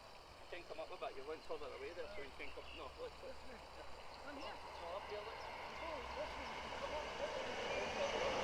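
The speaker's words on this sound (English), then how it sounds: "The train goes past." Train passing near a footgolf course during a live tournament at Mytton Fold: a low rumble that swells gradually and grows steadily louder, with birdsong and outdoor ambience on top.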